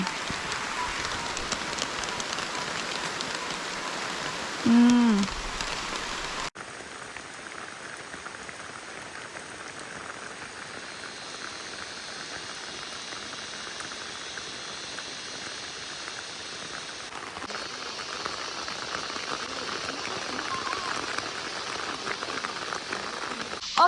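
Steady rain pours down on a mountain garden, a dense continuous patter and hiss that holds evenly throughout with no voices.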